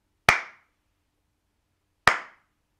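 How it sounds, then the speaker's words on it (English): Two sharp single claps from children beating out the rhythm of a word in a classroom, spaced well apart with clean silence between and around them. "Just clap the rhythm, so put cat in your mind."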